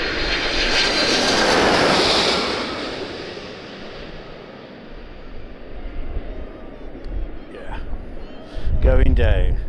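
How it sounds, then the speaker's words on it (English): A cargo plane flies over Birmingham Airport on a windy afternoon, its engine roar loud and swelling then fading, with wind buffeting the microphone and people talking briefly near the end. "I think this is a cargo plane,"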